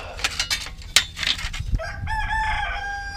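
Chickens clucking and a rooster crowing on a residential property, a few scattered clucks and squawks followed by a loud drawn-out crow close to the listener.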